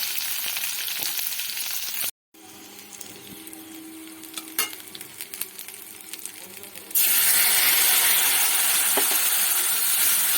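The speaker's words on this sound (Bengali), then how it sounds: "সব দিয়ে ভালো করে ভাজা ভাজা করব" Onion, chili and grated ginger fry in hot oil with a steady, dense sizzle that cuts out briefly, returns quieter with scattered crackles and stirring, then swells louder and brighter for the final few seconds. No voices are heard.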